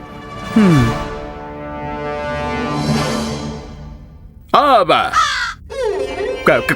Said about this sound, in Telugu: ఆ నల్ల కాకి అదేదైతే ఉందో నా వెంట ఎందుకు పడింది